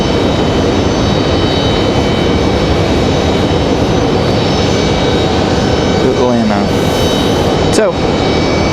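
A Delta Boeing 737-900ER climbs out of Raleigh-Durham International bound for Atlanta, its jet roar loud and sustained throughout, with a few brief chirping sounds near the end.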